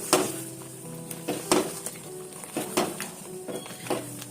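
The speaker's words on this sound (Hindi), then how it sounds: "ये दोनों चीजें ऐड करने के बाद मैं थोड़ा मिक्स करूंगी।" Chicken white karahi with coarse ground black pepper being stirred in a pan, rhythmic scraping strokes of a utensil against metal every half second or so over a steady soft sizzle, close and clear.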